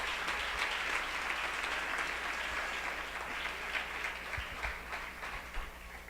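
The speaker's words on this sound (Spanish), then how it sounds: "Aplauso fuerte a Jesucristo en esta hora." A church congregation claps steadily, a dense wash of applause that holds at an even level throughout, with a few louder claps near the end.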